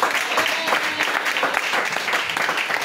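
A church congregation applauds for Jesus, steady dense clapping from many hands that holds throughout, loud and close.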